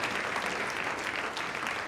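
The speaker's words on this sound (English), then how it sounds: "So I think that deserves a round of applause, doesn't it?" Audience applause at a brand talk, a steady wash of clapping from a crowd heard alone for a couple of seconds at moderate volume.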